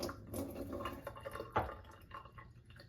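Hot tap water poured out of a container while making Jell-O, a quiet splashing trickle with a brief sharper splash partway through, heard close and alone.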